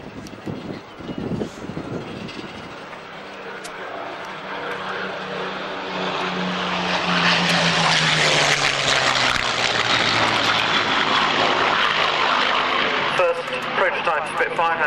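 Supermarine Spitfire with its roughly 1,000-horsepower propeller engine passing at an RAF Waddington airshow, a broad droning roar that swells and holds loud toward the end, with a steady engine tone and a voice talking over it.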